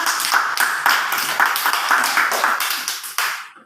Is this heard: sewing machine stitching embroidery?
no